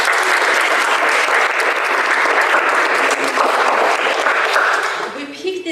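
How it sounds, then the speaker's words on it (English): An audience at a diversity reception honoring first-generation lawyers claps loudly for several seconds, a dense, sustained wash of applause that tapers off at the end. "Can we give them a round of applause?"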